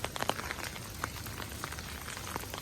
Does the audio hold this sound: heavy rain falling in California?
yes